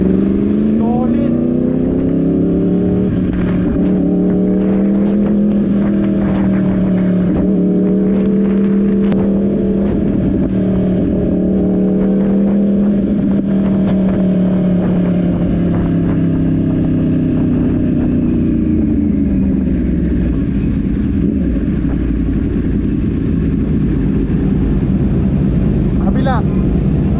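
A Yamaha R1 sport motorcycle engine idles and revs steadily for a long stretch, loud and close, its pitch rising and falling smoothly with faint voices underneath.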